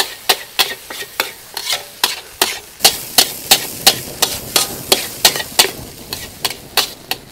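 Rhythmic, loud scraping and clanking of a spatula stirring kampung-style fried rice with water spinach stems in a wok, strokes coming steadily about three per second over a frying hiss.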